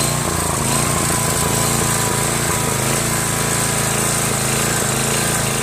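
Small Tecumseh 5HP Enduro horizontal-shaft engine driving a 2000 PSI pressure washer, running loud and close with a rough, chugging drone and pulsing low thump throughout, no voices.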